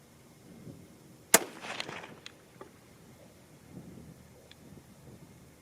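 A single sharp 6.5 Creedmoor rifle shot fired at a target on a range, a loud crack followed by a brief rolling echo, then quiet wind noise outdoors.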